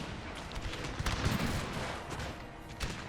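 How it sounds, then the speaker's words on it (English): In the Total War video game's English Civil War setting, cannons loaded with canister shot fire in a dense, continuous barrage of gunfire and booms, a steady battlefield roar without clear speech. "I'm gonna switch the cannons to canister."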